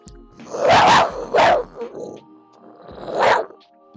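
A human voice imitates a mountain lion with three loud, close, rough snarling bursts, the first two in quick succession and the third after a quieter pause.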